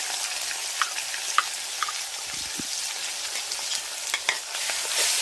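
Ground spice paste with tomato and chili frying alongside kan fish, stirred in a pan: a crackling, spattering sizzle with scattered sharp pops and light utensil scrapes, close up and without voices.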